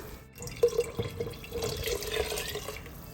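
Water is poured into a cooking pot while a mutton nombu kanji is being made, a splashing, trickling pour with a few louder gushes near the start that then settles into a steady, moderate flow, with no talking.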